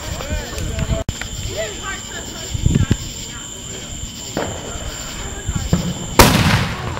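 Fourth of July fireworks burst at a distance, a few dull booms and crackles spread across the stretch, with people talking nearby throughout.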